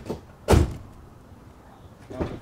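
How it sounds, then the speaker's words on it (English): The door of a 1999 Mercury Grand Marquis with air suspension, raised on jacks, shuts with one loud close thump, preceded by a faint click and followed by a softer rattle near the end. "let's see what happens if we shut the door."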